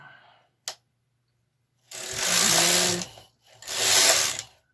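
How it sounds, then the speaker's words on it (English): Carriage of a KH 230 knitting machine pushed across its needle bed, making two long clattering, whirring mechanical passes close by, separated by a short pause, after a single click. "Set the carriage on the needle bed and move it across to straighten the needles to the B position."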